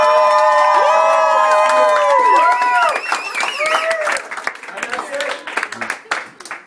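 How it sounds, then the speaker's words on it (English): A studio crowd claps and cheers in a burst of applause, with whoops and shouts over the clapping and voices talking through it as the noise thins out. "Can I get a round of applause for everything that both Nisha and Chris"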